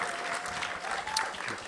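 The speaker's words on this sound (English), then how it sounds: "could we give a big round of applause for our panel?" Audience applause for a panel at a discussion on homelessness, a steady wash of clapping from a seated crowd, moderately loud and continuous through the clip with a faint tonal whistle in the background.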